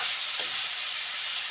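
Pork pieces fry in oil in a gas-heated wok-style pan, giving a continuous bright sizzle that stays loud and even throughout, with no voices.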